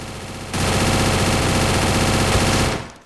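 Free Fire video game gunfire, a loud continuous burst of rapid automatic shots lasting over two seconds before cutting off, close and dense with no talking.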